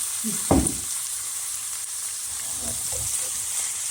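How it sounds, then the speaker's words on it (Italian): Minced meat for cannelloni filling sautés in a pan, a soft continuous sizzle with a few louder spits and stirring scrapes near the start and end, and no talking. "facciamo soffriggere la nostra ciccia"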